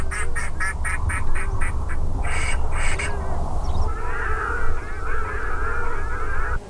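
Birds at the Chott el Hodna wetland give a series of quacking, duck-like calls in quick rhythmic bursts, then a looser run of warbling calls, loud and close over a steady low rumble.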